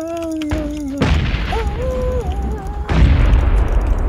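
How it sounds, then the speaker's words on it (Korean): A grenade blast in PUBG Battlegrounds lands as a loud boom partway through, with a second heavy thump later, while a voice speaks through much of it. "내가 이럴 땐 수류탄."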